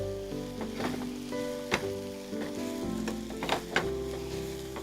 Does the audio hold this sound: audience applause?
no